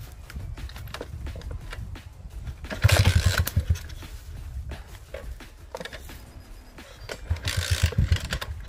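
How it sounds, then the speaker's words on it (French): A child's small motorcycle engine idles roughly, then revs up in two louder throttle bursts against a steady mechanical rumble, with no talking. "Mets un peu de gaz Armand."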